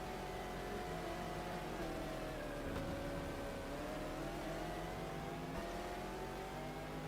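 An LMP2 race car in a racing video game hums steadily at a faint, even engine pitch, with slight rises and dips in revs and no voices.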